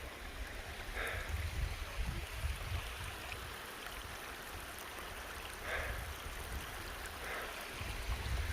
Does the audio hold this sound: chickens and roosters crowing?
no